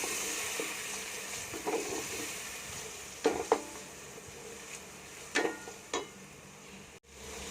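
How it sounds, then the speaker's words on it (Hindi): Garlic, ginger and green chili paste frying in a pan for vegetable rice, a low steady sizzle broken by several sharp scraping and clinking stirs of a utensil against the pan. "लहसुन अदरक और हरी मिर्च का पेस्ट जो अच्छी तरह भुन चुका है।"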